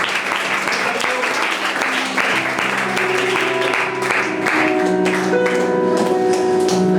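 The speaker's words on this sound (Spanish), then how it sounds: "déle ese aplauso al Señor." A church congregation applauds loudly in a dense, continuous wash of clapping while sustained organ or keyboard tones ring underneath.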